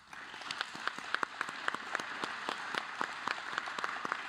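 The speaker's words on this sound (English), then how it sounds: "Let's give a big, warm round of applause to all of our new members." A modest audience at a college honor society induction ceremony claps steadily, a light scatter of individual handclaps heard from nearby with no voices over it.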